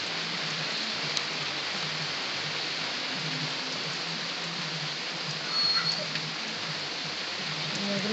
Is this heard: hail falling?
yes